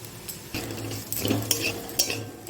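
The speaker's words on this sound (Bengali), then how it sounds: "এবার ভালো করে মিশিয়ে নেব" Short bursts of a spoon scraping and clinking against a pan while a thick mixture of deboned fish is stirred, with a faint sizzle underneath.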